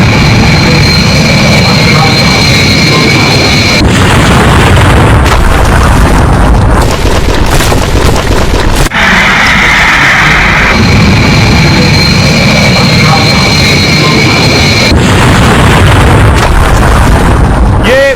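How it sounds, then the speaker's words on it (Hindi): An animated airliner taking off from a runway and crashing into a building: loud, continuous jet roar with heavy booming crash impacts throughout, and a voice talking over it. "विमान जैसे ही टेक ऑफ करता है रनवे से आगे बढ़ते ही फौरन देखिए क्रैश हुआ, इमारत से टकराया"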